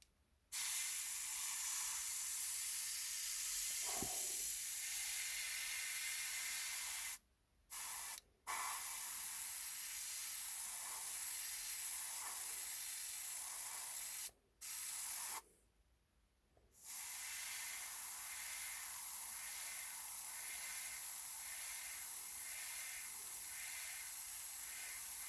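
An airbrush loaded with Scale75 paint thinned a little too much sprays at roughly 25 psi, giving a steady close hiss that runs almost throughout and cuts out in a few short breaks, including one longer gap.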